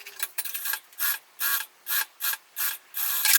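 Sewing machine with a size 16 needle stitching synthetic material in short, even bursts, about seven rhythmic runs separated by brief pauses, close and fairly quiet, with no talking.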